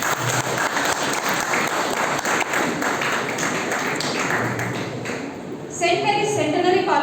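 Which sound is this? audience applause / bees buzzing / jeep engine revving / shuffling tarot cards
audience applause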